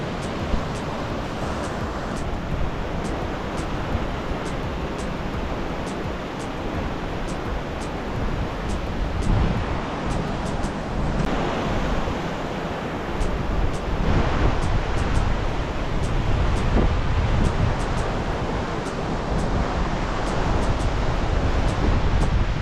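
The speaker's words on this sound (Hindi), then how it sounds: "ऊपर से पत्थर और पानी काफ़ी नीचे गिर रहा है" Meltwater and loose stones pour down from the Gaumukh glacier high above the Gangotri trail in the snowy Himalaya, making a loud, steady, broadband roar that never lets up, with no voices.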